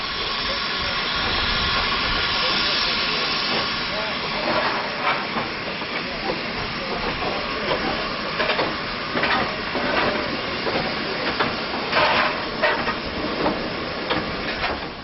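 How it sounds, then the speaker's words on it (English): A Johnson 1F steam tank engine works a short demonstration freight train at a depot, giving a steady hiss with faint rhythmic chuffs and clanks heard from a distance throughout. "there is enough space to run short demonstration freight trains, like this period example behind the resident Johnson 1F tank"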